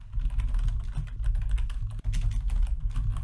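Code being typed on a computer keyboard makes a rapid, close run of clicking keystrokes at an uneven rhythm, with a brief pause near the middle and no talking.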